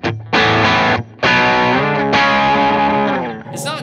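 An electric guitar through a tube amp on a clean tone plays a few ringing chords and notes, loud and close, each strummed and left to sustain.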